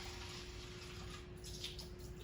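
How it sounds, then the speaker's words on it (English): Water pours steadily into a styrofoam cup, a continuous close splashing and trickling that fills the whole short stretch with no talking. "and I put it into my cup"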